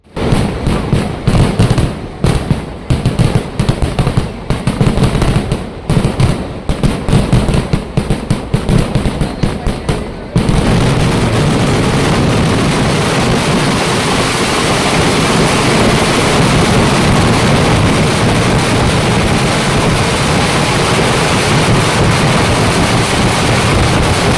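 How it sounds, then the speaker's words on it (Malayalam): Rapid, loud bursts of fireworks crackle and bang in dense succession in the night sky at a Kerala temple festival, then merge into a continuous roaring barrage of explosions. "രാത്രിയിൽ കല്ലടത്തൂർ ദേശം വെടിക്കെട്ട് കമ്മിറ്റി ഒരുക്കിയ കരിമരുന്ന് പ്രയോഗം ആകാശത്ത് വിസ്മയം തീർത്തു"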